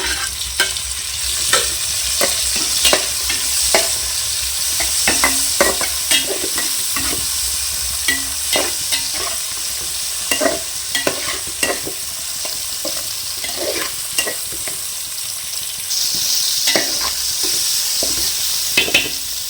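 Onions fry with a loud, steady sizzle in a pan for beef biryani, stirred with frequent sharp scrapes and clanks of a spoon against the metal, with no talking.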